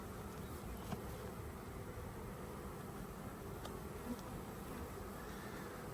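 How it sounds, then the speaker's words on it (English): A swarm of honey bees buzzing steadily in a continuous, even drone, close and fairly quiet, with no voices. "I had bees all over when I opened it back up"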